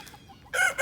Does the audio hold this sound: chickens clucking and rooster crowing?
yes